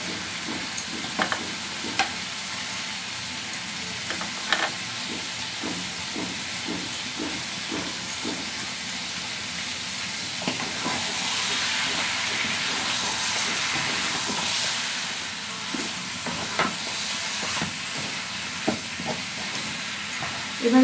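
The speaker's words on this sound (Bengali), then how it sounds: "এবার এটাকে ভালো করে কষাতে হবে" Chicken gizzards sautéing in a pan with potatoes and chopped spring onions, a continuous loud sizzle and hiss with scattered stirring scrapes and clinks throughout, no talking.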